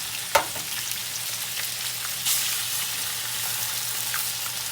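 Eggs sizzle and crackle steadily in hot oil in a pan while Indonesian mie goreng is being cooked, with a sharp pop near the start and another burst of sizzling partway through.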